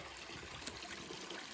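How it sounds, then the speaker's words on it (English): Two small waterfalls trickle into a natural goldfish pond, giving a soft, steady splashing and babbling with one brief brighter splash partway through. "2 little mini waterfalls running."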